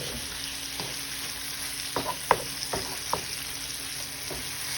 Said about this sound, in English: I just added my shrimp. I'm gonna turn it down to 6. So it don't be cooking too fast.